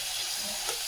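Onion and curry leaves fry in a pan with a brief, steady, hissing sizzle that stays even throughout.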